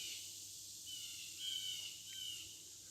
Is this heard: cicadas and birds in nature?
yes